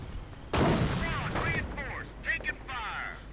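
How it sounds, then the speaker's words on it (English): Gunfire in a WWII strategy video game, with anti-tank guns firing during a battle: one loud booming shot followed by a few fainter reports, all under a commentator's voice. "And the anti-tank gun coming under fire from its own anti-tank gun."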